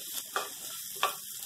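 Sweet potato hash sizzles steadily in a hot frying pan, with a soft continuous crackle and two brief stirring scrapes.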